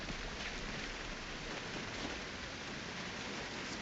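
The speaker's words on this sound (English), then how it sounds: "This rain's getting kind of loud, but that's real good for the garden." Rain pounding down on a farm in a video game, a dense, even hiss of heavy rainfall that stays steady and close for the whole stretch, with no voices.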